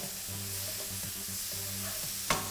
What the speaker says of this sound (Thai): ผัดให้เข้ากันนะครับผม